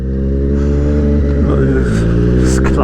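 A 2020 Triumph Street Triple 765 RS engine revs loud and close, its pitch rising and falling as the clutch slips, holding a steady, throaty drone throughout.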